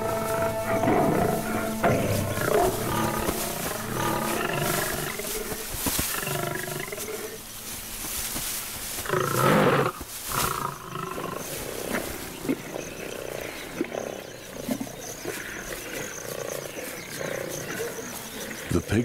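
Lionesses fighting over a kill, with loud, harsh roars and snarling growls in repeated bursts against a background of insects and other wildlife, while a narrator talks over much of it.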